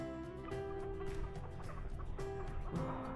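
Medium-sized young chickens cluck and murmur together outdoors in a farmyard, a steady, fairly close chorus of short calls with some clearer individual clucks standing out.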